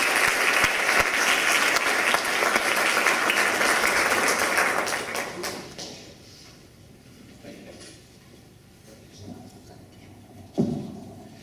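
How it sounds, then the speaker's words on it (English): Audience applause at a chamber of commerce candidate debate, loud and dense for about five seconds, then dying away into quiet room noise with a few scattered claps and a brief thump near the end. "Let's give both these gentlemen a round of applause."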